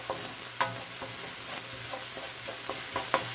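Veggie fried rice being stirred in a pan and water-fried without oil, with sporadic scraping clicks of the utensil over a low steady sizzle, fairly close.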